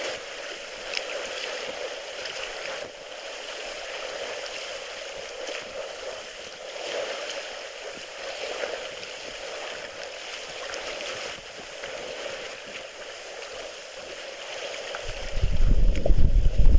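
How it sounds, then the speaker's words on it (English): A sailboat's bow wave hisses and rushes continuously along the hull while under way, steady and close, with wind buffeting the microphone toward the end. "Nice bow wave curling away."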